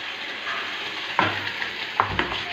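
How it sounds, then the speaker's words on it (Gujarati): Tomato puree is stirred into sizzling masala in a pan for kadai paneer, with a steady frying hiss and a few scraping clinks of the spoon. "હવે આપણે આમાં ટમેટાની પ્યુરી નાખીશું."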